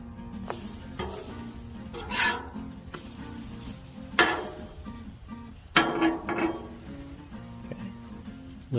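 French toast sizzling on a Blackstone griddle under a steady hiss, with intermittent scrapes and metallic clanks of a spatula, close by.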